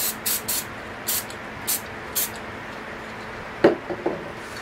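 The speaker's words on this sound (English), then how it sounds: "I'm going to spray a little bit of purple" An aerosol spray paint can releases short, sharp hissing bursts of paint, about six quick sprays in an irregular rhythm, close up, followed by a few light knocks.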